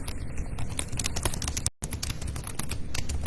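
Steady, fast typing on a computer keyboard, close and fairly loud, with dense overlapping key clicks and one brief gap partway through; no voices.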